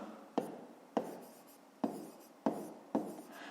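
Chalk or marker strokes on a board during a fifth-grade math lesson, five sharp taps, each followed by a short scratchy trail, spaced in an uneven rhythm with no talk.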